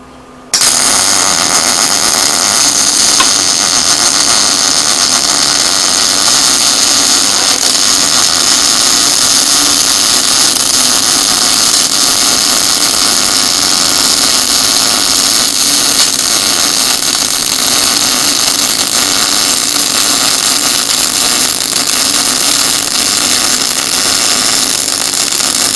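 Gasless MIG welding, a beginner's first try, gives a loud, steady, crackling hiss that runs without a break for about 25 seconds. No one speaks over it.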